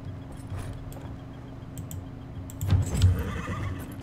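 A chestnut horse neighs in Dragon Age: Inquisition, a short whinny rising over soft trotting hooves and light jangling tack in the game's ambience.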